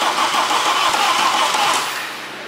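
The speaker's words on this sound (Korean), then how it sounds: "자, 이제 시동 걸어야 될 타이밍이에요." A BMW 520D F10 diesel engine turns over and catches, settling into a steady, loud, close rumble that eases slightly toward the end; no voices.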